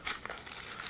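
Thin plastic bag packaging crinkles and rustles while a MOJO digital life counter is pulled out of it, a quick crackling handling sound that is close and fairly quiet, with no talking.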